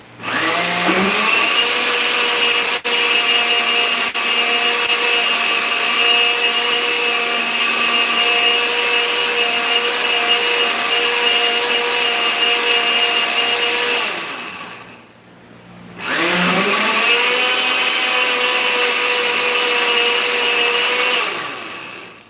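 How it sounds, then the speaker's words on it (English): A blender running loudly on pumpkin juice with nutmeg, cinnamon and powdered milk, a steady whirring drone that cuts out briefly and then starts up again. "And I'm going to blend a little more so that everything comes out smooth."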